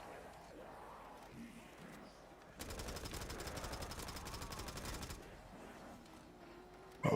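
Video game gunfire: a sustained burst of rapid automatic fire lasting a couple of seconds, loud and close, set against quieter in-game ambience, with a further sharp blast at the very end.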